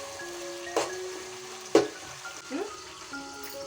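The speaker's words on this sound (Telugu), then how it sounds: "టమోటాలు బాగా ఒకసారి మరోసారి ఇలా కలిపి వేయించుకోవాలి" Tomatoes stir-fried in ghee for dum biryani sizzle steadily in a pan, with a few louder scraping stirs of a spoon cutting through the close, continuous frying.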